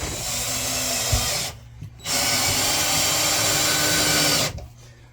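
A power drill drives 35mm screws into a wooden allotment shed in two sustained whirring runs separated by a brief pause, loud and close, with no talk.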